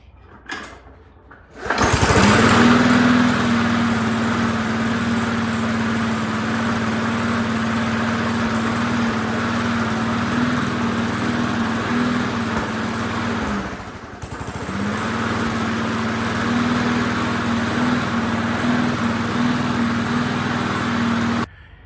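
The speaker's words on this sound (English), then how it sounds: "I'm not gonna give it a shot of starter fluid and let's see what it does." A small engine fires up after a shot of starter fluid and settles into a loud, steady idle with a droning hum, briefly dipping midway before picking back up, with no voices.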